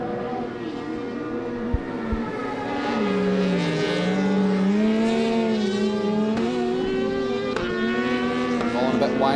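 Rallycross race cars at Mondello Park in a British Rallycross Championship round, their engines droning and rising steadily in pitch as they accelerate, heard under a commentator's voice.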